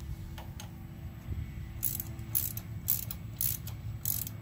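A ratchet tightens half-inch nuts on a Smith & Loveless lift station pump, giving a run of short, close metallic clicking bursts in a steady rhythm over a low mechanical hum, with no talking.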